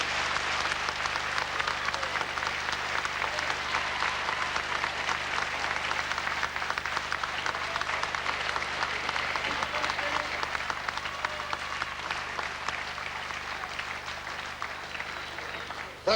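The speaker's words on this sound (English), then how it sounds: "And listen to that applause." A crowd at a wrestling bout applauds steadily and loudly after a drawn 20-minute contest, a dense, continuous wash of clapping that eases slightly toward the end.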